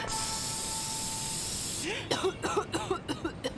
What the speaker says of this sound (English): I feel like spraying you. In green, the colour of lies.